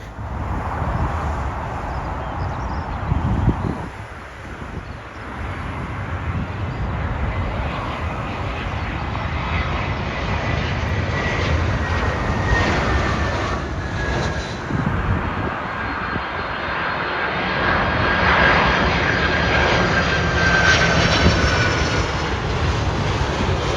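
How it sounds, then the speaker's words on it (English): Airliners flying in to land at Heathrow Airport, a loud, sustained jet engine roar that swells and fades over about twenty-four seconds, heard from the airport perimeter with no talking. "we can see planes coming in, but they're going to be tricky to film"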